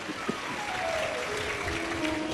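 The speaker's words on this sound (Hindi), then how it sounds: "एक बार जोरदार ताली बजाओ।" A large gathering at a Shiv Mahapuran katha applauds in a soft, continuous wash of distant clapping, with a faint tonal sound running underneath.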